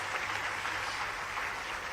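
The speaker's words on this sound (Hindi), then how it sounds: "जरा तालियां बजाकर स्वागत करें हेमंत जी का।" Crowd applause at an outdoor tree-planting campaign event, a faint, even patter of many hands clapping, distant and steady for the full stretch.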